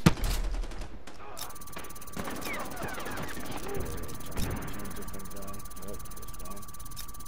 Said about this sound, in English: Oh, you're shooting me from behind.